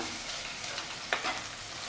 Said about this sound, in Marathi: मस्त असं परतलेलं आहे